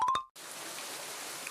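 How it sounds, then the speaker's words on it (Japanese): Heavy rain falls steadily at Izumo Taisha shrine, a constant dense patter after a brief sharp clinking sound at the start. "雨は相変わらずですね"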